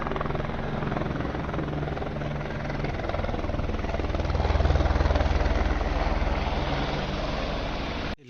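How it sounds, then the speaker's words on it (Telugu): A helicopter flying near Lukla, its rotor chop and engine drone loud and continuous, swelling briefly as it passes closest before cutting off abruptly. "హెలికాప్టర్"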